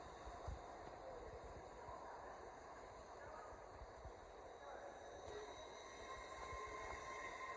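A passenger train on the East Coast Main Line at York rumbles steadily past nearby with a broad, continuous roar and faint wheel squeal, no voices over it.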